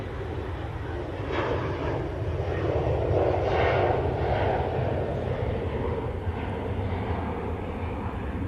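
A Gulf Air Boeing 787 Dreamliner departs for Bahrain, its jet roar swelling to a peak near the middle before easing back to a steady, fairly loud rumble.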